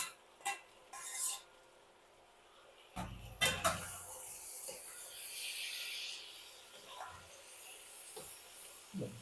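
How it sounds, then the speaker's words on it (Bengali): Mixed vegetables with green beans and peas are stirred and fried in spiced oil in a pan, giving a soft steady sizzle and hiss broken by a few scraping strokes of the spatula. "পাঁচ মিনিট ধরে ভালোভাবে কষিয়ে নেব সবজিটাকে"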